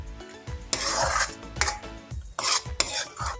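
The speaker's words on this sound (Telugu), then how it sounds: "ఇప్పుడు ఈ స్టేజ్లో మనము ఇందులో ఈ మిశ్రమాన్ని కలిపేసుకోవాలి" A spoon stirs a ground green chilli and fenugreek mixture into gongura chutney in a pan, giving close, irregular scraping and clinking strokes with soft sizzling between them and no talking.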